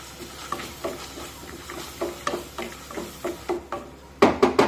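A spoon stirs a spinach and chana dal mixture in a pan in a steady rhythm of soft scrapes and taps over a low sizzle, ending with a few louder, sharper knocks against the pan.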